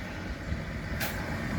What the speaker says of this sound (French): Il y a le camion qui arrive, hein, le camion de 16 mètres.